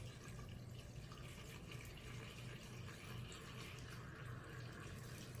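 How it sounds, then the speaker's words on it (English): Distilled water is poured steadily into a potted peace lily during repotting, making a continuous soft splashing trickle that stays close and even for several seconds, with no talking. "Okay, so now I'm adding the water."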